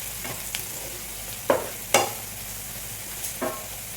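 Onions sautéing with salt in a pan, a quiet bed of low sizzling with several short scraping stir strokes punctuating it.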